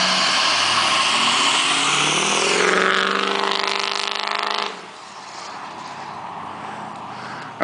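Straight-piped Powerstroke diesel van launching hard, a loud raspy engine roar climbing in pitch for several seconds then cutting back sharply to a lower drone as it pulls away.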